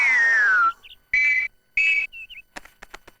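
A cartoon whistle sounds three close, loud blasts: a long first toot sliding downward, then two shorter steady ones. A few sharp clicks or taps follow at the end.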